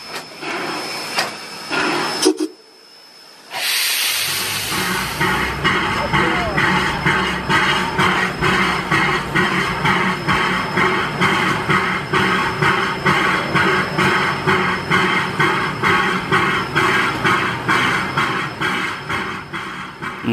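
A 1922 Baldwin-built Mikado-class Poulsen 70 logging steam locomotive chuffs in a steady, rapid rhythm after a brief pause, loud and close, with hissing steam running through the exhaust beats.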